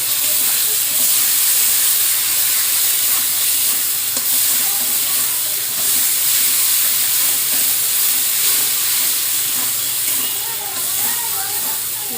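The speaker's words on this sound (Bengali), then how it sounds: "একসঙ্গে খুব ভালোভাবে টমেটো কষিয়ে নেব মশলার সঙ্গে।" Chopped tomatoes fry with spices in hot oil in a pan for a stuffed pointed gourd dish, a loud, constant, close hiss and sizzle that runs throughout with faint stirring under it and a voice speaking over it.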